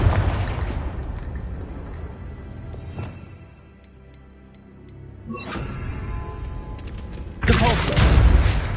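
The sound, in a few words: Confringo fire-blast spell exploding in video game Hogwarts Legacy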